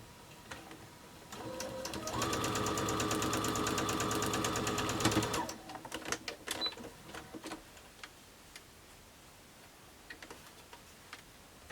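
A sewing machine stitches a fabric seam in a steady, fast mechanical whir of rapid ticks lasting about four seconds, then slows into scattered clicks and light handling noises, with no one talking.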